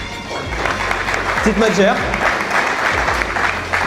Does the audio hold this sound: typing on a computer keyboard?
no